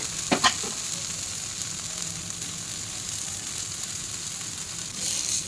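Eggplant slices frying in a pan with little oil, a steady soft sizzle with a couple of sharp scraping knocks at the start as they are flipped.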